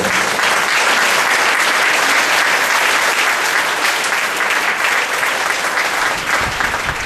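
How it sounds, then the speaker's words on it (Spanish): A church congregation applauds loudly and steadily, a dense, continuous wash of many hands clapping that fills the room from start to finish. "Pero un aplauso al Rey de la Gloria."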